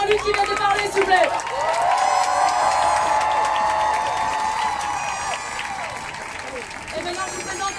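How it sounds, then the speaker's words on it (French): A crowd at a Brussels women's rights march applauds and cheers loudly, sustained clapping and whoops spreading across the space, while whistles and a voice sound over the noise as it slowly dies down. "Je vous demande d'applaudir encore bien fort les 2 militants de la santé en lutte qui viennent de parler"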